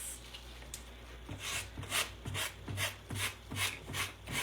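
Hand sanding of a patched wall or surface, a steady rasping rub repeated in regular back-and-forth strokes, close and fairly quiet.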